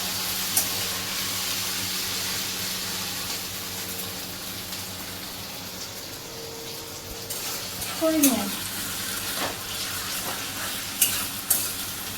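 Spicy vegetarian potato chop mixture stirred in a frying pan, a steady low sizzle with scraping strokes that grow louder toward the end and a few sharp clinks of the spatula against the pan.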